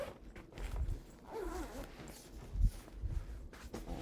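A zipper pulled open along the main compartment of a white Star Wars-themed backpack, a soft, close rasping run with a few quiet bumps of handling, fairly faint overall.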